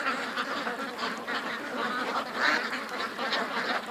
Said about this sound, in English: I know why the ducks are all freaked out.